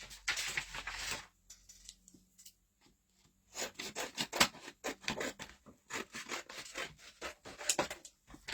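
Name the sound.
cutting down a paper sheet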